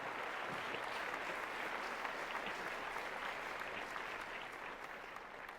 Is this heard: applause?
yes